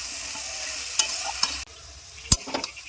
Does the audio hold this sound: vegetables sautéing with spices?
yes